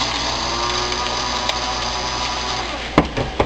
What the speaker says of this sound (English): We'll just grind this up.